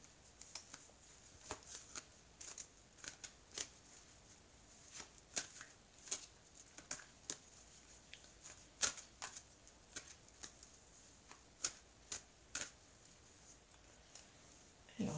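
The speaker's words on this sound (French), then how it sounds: "Alors, je vais étaler les cartes." Oracle cards are shuffled and spread across a surface, giving a series of soft, quick, irregular flicks and slaps at close range, with no talking over them.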